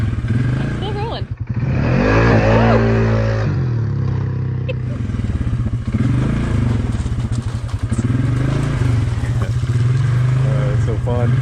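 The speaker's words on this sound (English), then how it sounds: "you just touch that throttle, and it picks up, it moves." A 450 motorcycle fitted with an EPI clutch kit rides across ice, its engine a loud, close, steady drone that swells with throttle changes, with rough clatter and bumps over the surface.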